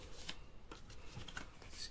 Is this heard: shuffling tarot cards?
yes